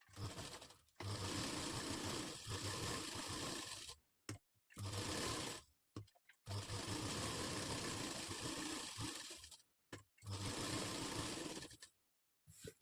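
Sewing machine joining two pieces of a katori blouse, running in steady bursts of a few seconds separated by short silent pauses, close and clear with no talk.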